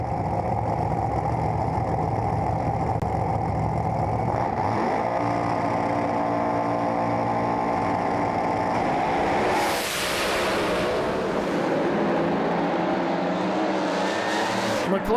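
Pro Slammer drag cars at a 400 Thunder final roar at high revs, a loud sustained engine drone with shifting harmonics that surges into a hard launch and pass, staying loud and near throughout.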